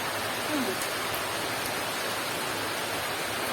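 Rain falling over a village makes a soft, even hiss of steady rainfall, moderately faint and unbroken, with no clear voices.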